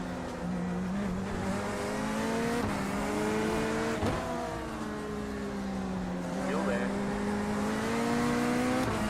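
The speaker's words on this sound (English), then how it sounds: "Sounds like a Corvette." A Corvette GT3 race car engine in iRacing drones steadily with rising and falling revs, shifting pitch through gears, while a voice speaks briefly over it.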